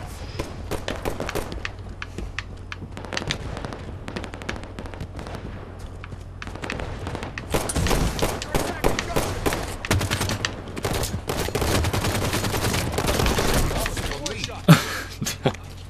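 Sustained gunfire in Halo 5: Guardians, rapid crackling shots that grow denser and louder midway, with brief voice callouts in the mix.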